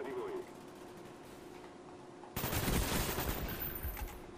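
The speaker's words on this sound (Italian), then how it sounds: "due colpi con un fucile a pompa, ma cos'è?" Shotgun blasts from Call of Duty: Black Ops in the Nuketown map ring out, with a loud burst of fire that begins midway and continues, while a voice talks during the clip.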